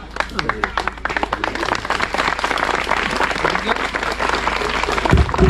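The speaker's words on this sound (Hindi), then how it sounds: "हमारे पूरे गांव की ओर से एक बार जोरदार ताली से हमारे मुख्य अतिथि का स्वागत है।" A village crowd gathered for a rural cricket final bursts into loud, sustained applause to welcome the chief guest, dense clapping filling the space continuously with voices mixed in.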